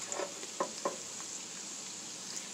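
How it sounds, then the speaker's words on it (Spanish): Onion and chile sauté in a pan for a Mexican pork chop dish, giving a faint, steady sizzle with a few soft stirring clatters and no talking. "Vamos a esperar a que se nos guise poquito la cebolla"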